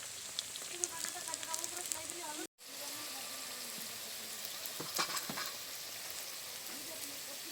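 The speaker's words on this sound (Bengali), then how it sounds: "আর এদিকে যে আমি কড়াইতে তেল বসিয়ে দিয়েছিলাম, ভাজতে দিয়ে দেবো।" Snacks fry in hot white oil in a wok, giving a steady, faint, close sizzle with occasional soft crackles and a brief cut partway through.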